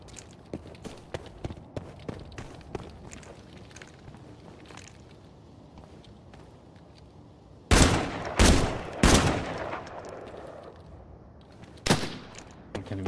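Gunshots from a Desert Eagle pistol in the video game Arena Breakout Infinite, several loud sharp cracks in a quick cluster followed by one more later, after a stretch of rapid footsteps while running.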